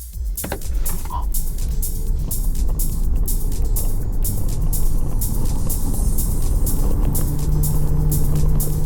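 A Chery Tiggo hybrid SUV's loud engine roar builds steadily under full-throttle acceleration in sport mode, with rising whine and road noise filling the whole stretch.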